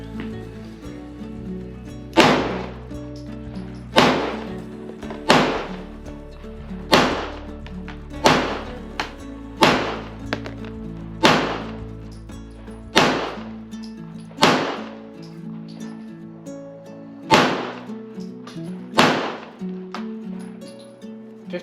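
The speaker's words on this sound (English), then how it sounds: "the CCW, 6 shots, middle, bottom target, 15 yards. Let's shoot them." Glock handgun fired at an outdoor shooting range from 15 yards, about a dozen sharp, loud shots spaced roughly every second or two with brief ringing decay between them and no talk.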